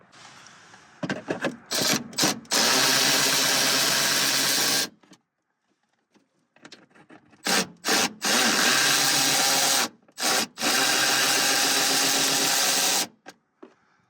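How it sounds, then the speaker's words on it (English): A power tool whirs in loud, sustained bursts while loosening two 10mm nuts on a Subaru BRZ fog light housing, the runs broken by short stops and quiet gaps. "We've got two 10mm headed nuts here that we need to take loose"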